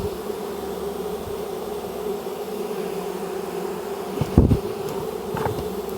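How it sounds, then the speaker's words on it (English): Honey bees from a hive being removed from a condemned building hum in a steady, close swarm drone, with a brief thump and rustle near the end. "that's thrumming with bees"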